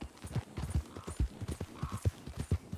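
Horse hooves in Red Dead Redemption 2 video game clopping in a quick, even rhythm of many distinct thuds, close and moderately loud, with no voices over them.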